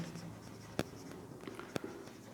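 Faint strokes of writing on paper or a board while net profit is worked out in an accounting lesson, with a couple of sharp taps standing out from quiet scratching in a hushed room.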